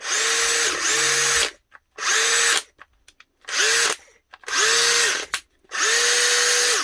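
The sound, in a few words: cordless drill running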